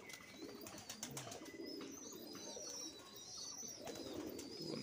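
An aged pigeon of a long-kept Kotashi breed gives faint low coos amid light ambient noise and occasional distant chirps, the soft calls blending into a steady background.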